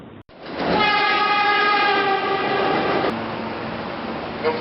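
An MTH model NYC Transit R-40 Slant six-car subway train set runs steadily, giving a loud continuous motor hum with a sustained horn-like tone and a shift in pitch partway through, with no speech.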